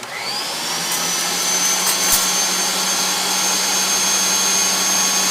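An electric mixer beater whips a thick marshmallow mixture in a bowl, a loud, steady motor whine that rises in pitch at the start and then holds a constant drone for several seconds.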